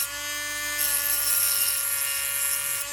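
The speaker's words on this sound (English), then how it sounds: "turn my cutting disc on again, and I'm just going to" A spinning cutting disc cleans burrs off the shaft end of an FK slot car motor running on a power supply: a loud, steady, high mechanical whine with no talking.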